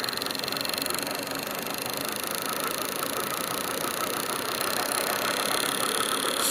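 A rebuilt Adam's motor generator runs with a steady, dense mechanical whir and hum, close and even, rising slightly in loudness partway through, with no talking.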